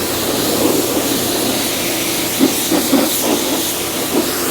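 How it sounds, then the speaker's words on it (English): A pressure washer sprays the plastic panels in the engine bay of a V8 manual BMW E39, producing a loud, continuous hiss with brief splashy bursts as the jet hits surfaces, the engine running underneath. "if you have a good pressure washer, especially on these plastic panels like this, it cleans up really nice"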